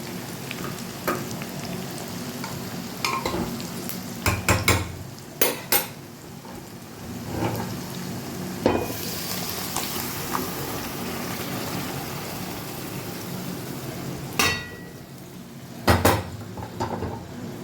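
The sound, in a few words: ghugni (pea curry) added to pan and stirred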